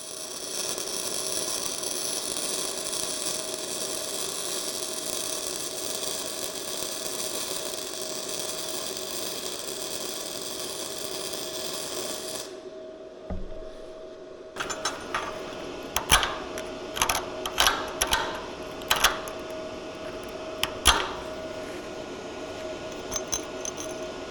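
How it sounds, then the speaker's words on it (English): A Bestarc gasless flux core MIG welder laying beads on a small junk plate, a steady crackling buzz for several seconds, then a pause and short bursts of sputtering and clicks nearby. "start off by just throwing some welds on this little junk plate we got sitting here"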